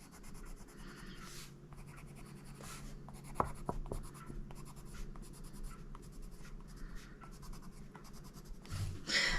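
A colored pencil in chrome oxide green scratches over adult coloring book paper in continuous soft, rasping strokes, close and steady throughout.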